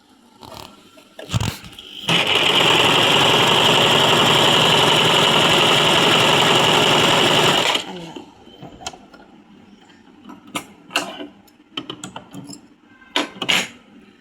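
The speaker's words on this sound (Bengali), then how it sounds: "এবার আপনাদের আমি সেলাইটা করে দেখাবো।" A Singer SM024 sewing machine stitches in a loud, steady, close whirring run of about six seconds, preceded and followed by scattered clicks and handling knocks.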